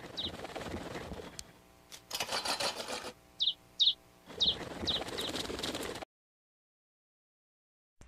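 Bird calls from a cartoon, several short cooing and chirping bursts between stretches of background sound and music, then silence at the end.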